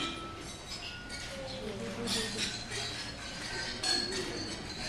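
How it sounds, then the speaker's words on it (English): Glasses clinking during a toast to the bride and groom at a wedding reception: light, scattered chimes of glass and cutlery ringing over steady crowd chatter. "Now if everyone will raise a glass and join me in toasting the bride and groom."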